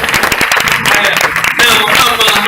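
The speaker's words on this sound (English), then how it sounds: "Please stand up and the way Americans clap for 3 minutes." Audience clapping at a movie premiere in Nakuru, dense, loud applause continuing throughout with voices mixed in.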